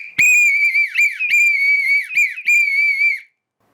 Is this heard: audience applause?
no